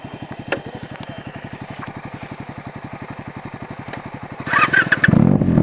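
Benelli 300i motorcycle engine idling with a steady, rapid thumping beat, then revving up loudly near the end, heard close and alone.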